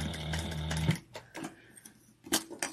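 A sewing machine stitches through a clutch wallet for about a second of rapid, close mechanical rattling, then stops and leaves a few light clicks and taps of handling.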